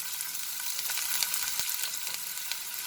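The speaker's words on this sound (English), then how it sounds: "I'm going to add half of these chopped onions" Chopped onions fry in leftover oil in a kadhai, giving a steady, fairly soft hiss and sizzle with faint crackles and a few light ticks from stirring.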